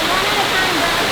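A waterfall in Khao Sok National Park roars as a close, steady broadband rush of falling water, filling the whole brief moment without a break.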